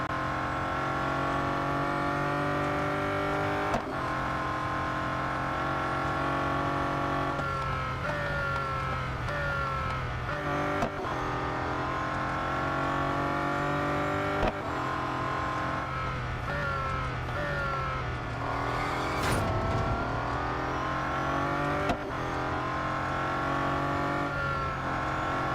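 Bugatti Centodieci racing car engine in the Real Racing 3 mobile game, droning loud and continuous as it revs up through the gears, with repeated rising pitch sweeps and short drops at each shift, and no talk.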